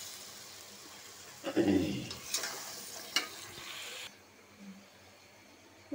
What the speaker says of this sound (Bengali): মশলা কষানো হয়ে গেছে, দিয়ে দিব সিম আর আলু।